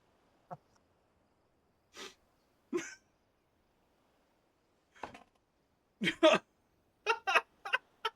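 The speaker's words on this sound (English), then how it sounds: "Oh no, she's still sneezing." Short, separate sneezy bursts from a woman, spaced out over several seconds and growing quicker and clustered toward the end, fairly quiet with gaps of silence between.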